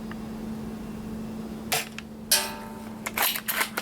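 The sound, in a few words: Ares Mauser Kar98k airsoft rifle shots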